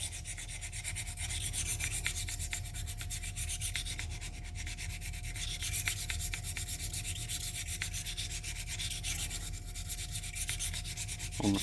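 Steady, continuous rasping and scraping of a double-edge broadhead blade rubbed against a sharpening stone, close up with a faint low hum underneath and no voices.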